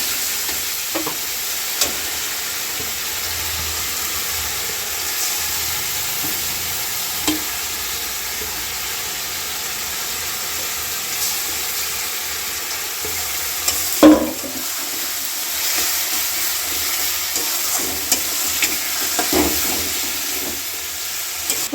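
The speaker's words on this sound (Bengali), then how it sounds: "চিকেনটা কড়াই দিয়ে দিলাম, দিয়ে এখন কষি" Chicken meat fries in a hot wok and is stirred, a steady loud sizzle with occasional scrapes and clacks of the spatula, no talking.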